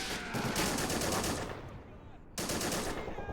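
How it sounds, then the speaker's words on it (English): Sustained machine gun fire pours from a bunker in the video game Army Men, loud and continuous rattling bursts with a brief lull before the shooting resumes. "they got 2 machine guns inside this bunker, and they're really suppressing the attackers"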